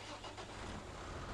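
Tractor engine in the video game Farming Simulator 17, a steady, loud, even mechanical drone that continues unbroken with no talking over it.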